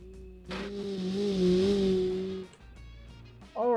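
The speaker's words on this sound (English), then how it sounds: "Alright, so driving the Citroen." A Citroen car driven in the Automation car-building game, its engine holding a steady harmonic drone with rising revs, dropping away briefly before another burst of revving.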